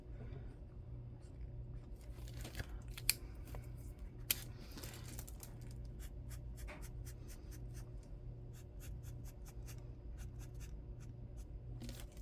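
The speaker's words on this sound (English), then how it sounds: "Now chisel nib on the standard piece of paper." A Sharpie S-Note chisel-nib marker writes on a standard sheet of paper, giving soft scratchy strokes in short bursts and quick taps over a faint low hum, close and quiet.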